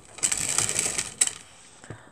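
A sewing machine stitching quilt blocks runs in a quick mechanical rattle for about a second, stops, then gives a couple more short bursts, all fairly close and clear.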